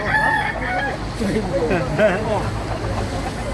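A rooster crows nearby at a market in Baliwag, its call rising and falling over background chatter and ambient noise.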